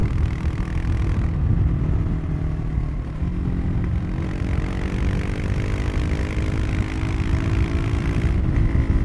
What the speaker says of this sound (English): I'm also really surprised at how satisfying the engine note is.